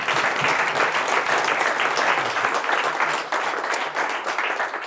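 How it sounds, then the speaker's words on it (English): Dense, steady audience applause fills a round table discussion on the future of metaorganism research. The many hands clap together loudly with no break for close to five seconds, then gradually thin out toward the end. "So can I please get a little bit of an applause for them?"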